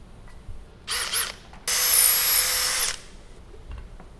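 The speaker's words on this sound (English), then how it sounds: "we're going to need to drill a pilot hole, but I don't have good access, so I'm going to mark the location, drill pilot hole" A power drill bores a pilot hole in wood: a short burst, then a longer, steady whirring run of about a second, close and loud against a quiet room.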